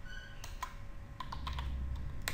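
Customer details being typed on a computer keyboard at a cloth shop billing desk, with scattered quick key clicks building into a faster run of taps, close and fairly quiet.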